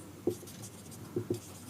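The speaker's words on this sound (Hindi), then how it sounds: "हम लोग यहाँ पे लिखते हैं," A pen or marker writes on a board during a chemistry lesson, making three short, faint scratching strokes in a quiet room with no speech.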